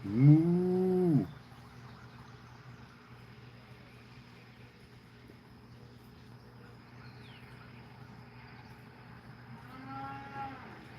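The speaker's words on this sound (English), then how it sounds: "Those cows are hungry." Cattle mooing outdoors, one loud drawn-out low moo up close at the start and another fainter moo near the end, with insects and ambient hum in between.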